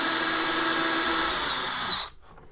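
A power drill bores a hole during a Midland MXT275 micromobile radio install in an RV. It gives a close, steady high whine that rises slightly in pitch, then cuts off sharply into quiet.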